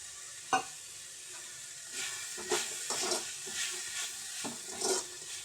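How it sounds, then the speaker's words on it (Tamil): Grated coconut stirred into drumstick leaves frying in a pan for a Tamil-style poriyal, with soft sizzling and scraping stir strokes coming in irregular bursts, close and moderately loud, no talking. "இப்போ தேங்காயை திரி வச்ச தேங்காயை கொட்டிக்கிடலாம்."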